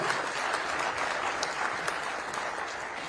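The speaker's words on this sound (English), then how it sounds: "please give a round of applause for our panelists and our moderator," Steady applause from a conference audience welcoming panelists and a moderator, an even wash of clapping at moderate level with individual claps standing out here and there.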